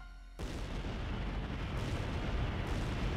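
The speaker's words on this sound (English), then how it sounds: "The explosions continue without any sign of stopping in several parts of London." Explosions keep going across several parts of London, starting after a brief quiet moment and then rolling into a dense, sustained low rumble of overlapping blasts, loud and steady with no speech.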